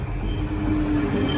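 A crowded train slowing to a stop during an evening Ramadan journey: a loud, steady low rumble fills the whole clip, with a high wheel squeal rising near the end and no voices.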